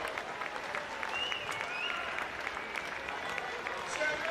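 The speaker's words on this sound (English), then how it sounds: "So give him a big round of applause." Crowd applause and cheering for a swimmer racing at a school swimming carnival, a moderate continuous clapping wash heard from a distance with whistles and voices in the mix.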